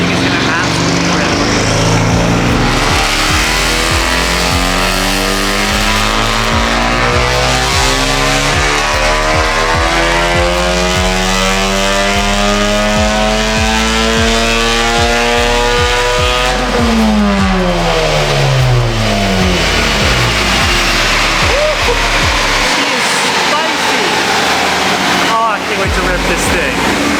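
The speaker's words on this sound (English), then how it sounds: "Your first dyno session. That is super loud." Honda Civic Type R FK8 with a dyno tune revs hard on a dyno, a very loud, continuous engine roar sweeping up and down through repeated climbs in pitch, with voices partly buried beneath it.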